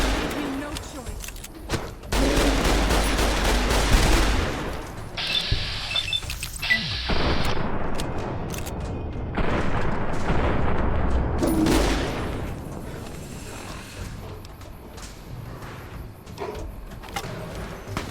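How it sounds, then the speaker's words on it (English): Gunfire in a video game set in Vegas: clusters of sharp, rapid shots in repeated volleys over about eighteen seconds, with mechanical clatter between them and a voice speaking at times. "there's somebody shooting at me from over there"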